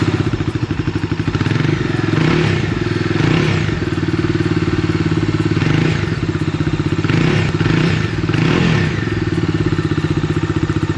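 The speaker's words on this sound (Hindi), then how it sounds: "एग्जॉस्ट साउंड भी आपको इस वीडियो में आपको मैं बताऊँगा।" A Bajaj Dominar 250 BS6 with a dual-barrel exhaust idles up close in a loud, even, thumping beat, with a few light throttle blips swelling the note.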